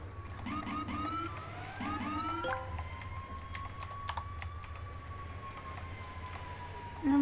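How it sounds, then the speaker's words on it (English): A fire department vehicle's siren yelps in rising sweeps, then settles into a long, steady wail. It sounds distant and faint over a low, constant engine rumble, with no voices. "I have no clue why they're going for lights and sirens"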